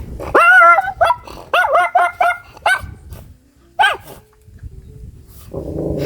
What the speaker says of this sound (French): Et là il y a le chien